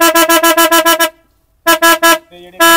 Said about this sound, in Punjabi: ਆ ਬਟਨ ਇਹ ਹਾਰਨ ਹੈ ਜੀ ਮਾਰੋ ਹਾਰਨ